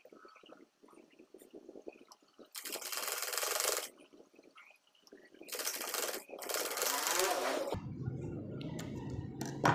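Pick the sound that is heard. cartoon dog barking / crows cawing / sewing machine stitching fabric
sewing machine stitching fabric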